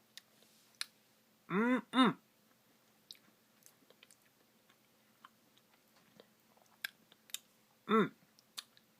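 Someone eating a DQ Cake Batter Cookie Dough Blizzard with sprinkled cookie dough pieces, giving a few close, soft chewing and mouth sounds in short bursts against a quiet background.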